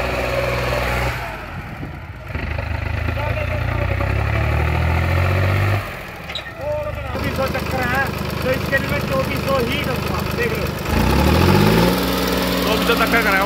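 A tractor engine runs hard at full revs during harrow testing on a field, a loud, close, rumbling drone that rises and falls in pitch, with voices talking over it.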